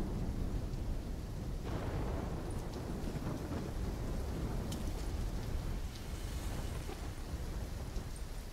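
A thunderstorm in Call of Duty: Black Ops 3 brings steady heavy rain with low rumbling thunder and gusty noise, a dense continuous wash of sound with no voices.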